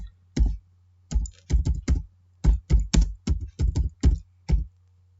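Keys clatter on a computer keyboard in quick, uneven bursts of close, crisp strokes with short pauses between groups, entering account numbers into accounting software, with no talking over it.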